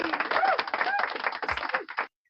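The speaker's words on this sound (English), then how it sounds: "I'm going to give myself a round of applause" Close clapping by a single man applauding himself, quick uneven claps with some whistle-like tones mixed in, stopping abruptly into silence.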